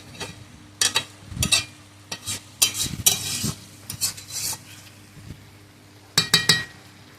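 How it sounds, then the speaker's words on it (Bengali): Bird meat is stir-fried in a pan: a spatula scrapes and clinks against metal in repeated bursts over a steady low sizzle, close and fairly quiet. "আরও বেশ কিছুক্ষণ এটা কষাতে হবে পাখির মাংস একটু বেশিক্ষণ কষাতে হয়"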